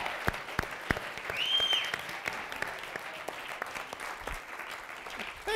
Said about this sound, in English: Can we give Brinna a round of applause?